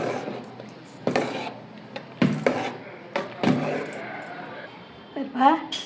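A spoon scrapes and knocks inside a pot while ragi flour porridge is stirred, giving irregular clinks and taps with a soft swishing between them.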